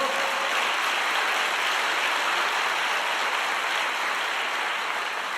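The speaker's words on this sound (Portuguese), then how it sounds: "Aplauda ao Senhor." Steady, dense applause from a church congregation, continuous and fairly loud throughout with no voices on top.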